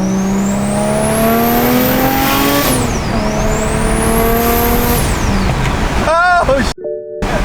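A single-turbo BMW N54 car running 18 psi of boost accelerates hard through the gears, its loud engine and turbo whine climbing steeply in pitch, dropping at a shift, then climbing again before cutting off.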